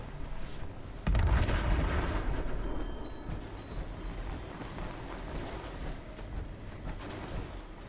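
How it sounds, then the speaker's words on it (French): A heavy explosion booms inside the Fallout 76 video game, a sudden loud low blast with a rumbling tail that fades over several seconds, followed by quieter game ambience. "Attention, explosion."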